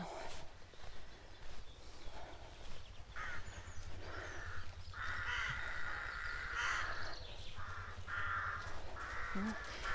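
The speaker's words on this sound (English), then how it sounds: "the obligatory crows that we always get in churchyards" Several crows caw repeatedly in the distance in a churchyard in Firsby, Lincolnshire, harsh calls coming in bursts over soft outdoor background noise.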